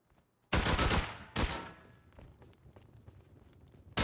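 Video game gunfire: a loud, sustained burst, a second heavy blast shortly after, a scatter of fainter shots trailing off, then another loud burst at the end.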